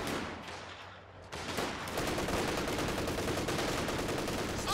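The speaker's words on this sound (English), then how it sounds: "This G43 Fusiliers doing some really good damage here behind the heavy cover" Rifle and small-arms fire from a Company of Heroes 2 battle, with G43 rifles among the weapons, crackles in a dense, continuous stream of overlapping shots. The firing grows louder and busier partway through and stays constant to the end.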